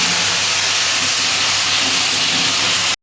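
Ginger garlic paste sizzling with fried onions in hot oil for singhi fish curry, a constant close hissing sizzle that cuts off abruptly at the end.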